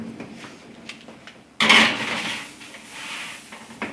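A tray of peanut butter cookies slides into an oven in a home kitchen, giving one sudden close metallic clatter and scrape, followed by softer knocks as the door is handled.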